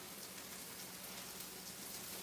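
A garlic clove sizzles in a hot pan alongside steak, a steady, dense crackling hiss that stays even and fairly soft throughout with no voices.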